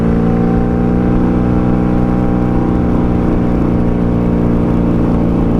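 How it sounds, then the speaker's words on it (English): A 1995 Honda Magna VF750C V4 cruiser fitted with a Jardine exhaust runs steadily while riding, with a loud continuous engine drone and a low burbling exhaust tone that holds evenly from start to finish without pause. "Let me know what you guys think about this exhaust."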